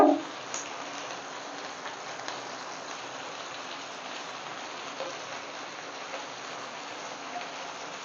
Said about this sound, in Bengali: বিশাল করে বৃষ্টি নেমে পড়েছে